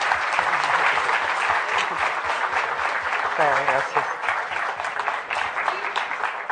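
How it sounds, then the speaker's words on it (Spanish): Audience applause for the panelists at a talk, loud continuous clapping with a person briefly speaking over it. "le damos un fuerte aplauso a nuestros panelistas"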